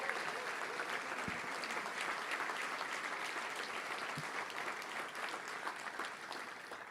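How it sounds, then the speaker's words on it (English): Sustained applause from a room of attendees at a Little Rock Touchdown Club gathering, honoring former Razorbacks coaches and players; dense, steady clapping throughout, fairly distant and even, with no talk over it. "Let's give them a round of applause."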